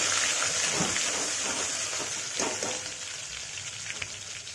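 Garlic-ginger paste sizzling and frying in a pan while kanduri mutton is being cooked, a steady close crackling hiss that fades slightly toward the end.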